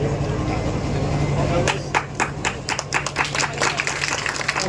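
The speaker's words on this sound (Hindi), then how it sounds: "जोरदार तालियों से इनका अभिनंदन करें।" An audience at a student award ceremony breaks into applause, starting as a low murmur and building into loud, sustained, overlapping clapping from many hands filling the room.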